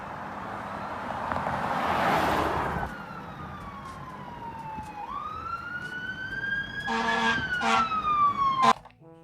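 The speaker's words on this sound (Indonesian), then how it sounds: "Wow, lihat di sini ada mobil pemadam kebakaran nih teman-teman." A fire engine siren wails in a rising and falling tone, fairly faint and steady, ending with a few brief louder electronic bleeps.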